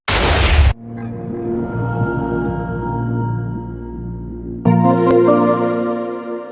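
A short, loud burst from a video game TNT block explosion opens the clip and gives way to a rumbling tail under music. A second impact strikes later, with no talking.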